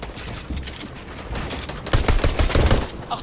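Rapid automatic gunfire in a video game, dense bursts of close, loud shots that grow heavier partway through, with no talking over them.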